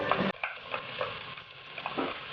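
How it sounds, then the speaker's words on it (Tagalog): Garlic, joined by onion, sautés in a pan with a quiet sizzle, broken by a series of soft spatula scrapes and stirring knocks at an irregular pace. "Saute the garlic. And then, once na maluto na yung garlic,"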